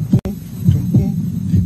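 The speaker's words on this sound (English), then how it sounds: "You've got a good heartbeat going there" Heartbeat heard through a stethoscope, a loud close low throbbing thump repeating in a slow, steady rhythm over a constant hum, with a brief dropout near the start.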